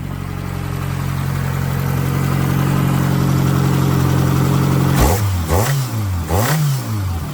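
Worn-out van engine with a failing bottom end, idling steadily, then revved in three sharp rising and falling bursts, loud and close, with no voices.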